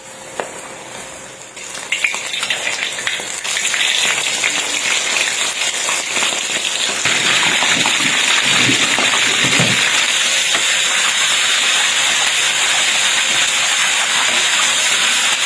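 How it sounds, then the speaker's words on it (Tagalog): Cornstarch-coated prawns frying in hot oil, a steady loud sizzle and crackle close by that builds as the pieces go in and stays dense throughout. "Tapos sa pinainit na mantika ay pipirituhin natin itong mga sugpo."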